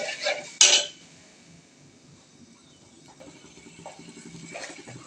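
Spices are stirred in a metal cooking pot for a Hilsa fish curry, with a couple of loud spoon clanks at the start followed by soft, faint scraping and rattling.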